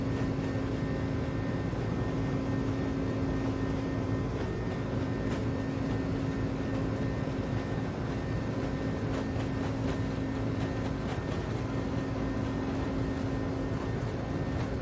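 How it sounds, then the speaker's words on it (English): Airbus A300-600 freighter engines at takeoff power in Microsoft Flight Simulator, a loud continuous roar with a steady buzzsaw drone underneath, unbroken for the whole stretch. "Buzzsaw engine noise really makes this aeroplane."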